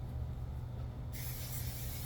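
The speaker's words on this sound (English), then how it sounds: "Spray my lid" Cooking spray hisses onto a pan lid in a steady continuous burst, close and fairly loud, and grows sharper and brighter partway through.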